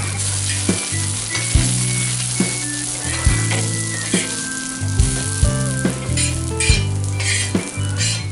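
Onion frying in a pan until crisp for crab masala, a dense, loud sizzle broken by regular scraping and clattering strokes of a stirring spoon, with music in the background and no talk.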